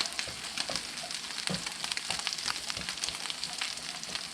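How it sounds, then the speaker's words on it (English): A steady bubbling, sizzling wash of spinach boiling in a pot on the stove, with small pops and crackles throughout and no voices. "Spinach is boiling."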